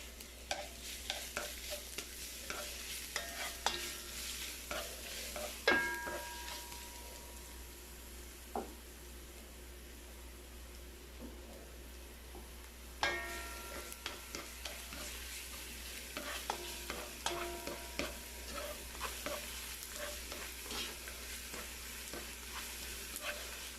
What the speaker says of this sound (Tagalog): Igisa lang natin.